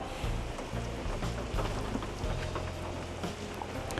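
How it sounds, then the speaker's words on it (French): Dense, steady rain pours down, a continuous broadband hiss with scattered drops pattering, loud and close throughout with a low rumble underneath. "il pleut et pas qu'un peu"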